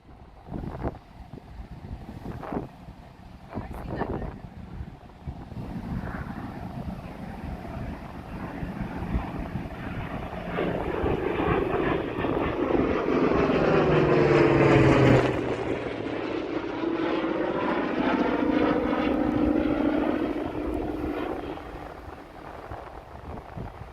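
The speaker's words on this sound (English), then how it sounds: "Oh, here comes the Corsair." A Corsair propeller warplane approaches and roars overhead at an air museum flight demonstration, its engine building from a distant drone to a loud, rasping peak midway, then fading away with a slight pitch drop.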